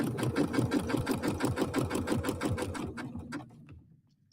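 A sewing machine stitches decorative thread along a fabric seam, its rapid, steady needle chatter running close and clear for about three seconds before slowing and stopping.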